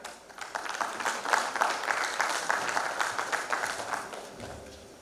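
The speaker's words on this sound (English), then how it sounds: "A huge round of applause." Audience applause at a digital transformation conference in Guwahati, a steady dense wash of clapping that holds moderately loud for several seconds and thins out near the end.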